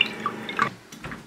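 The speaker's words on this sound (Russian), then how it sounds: "Возьму водичку полить." Bottled water is poured onto a potted plant, making a short burst of close, wet trickling and dripping.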